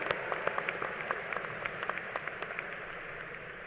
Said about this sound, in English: How about one more round of applause for Rachel Hodson?